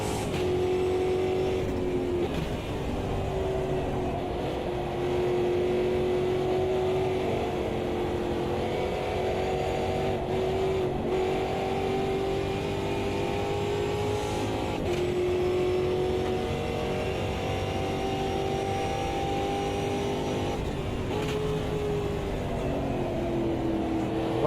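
Race car engines in a racing simulation game, a continuous loud drone with shifting pitch as cars run at speed and close on others ahead, no voices.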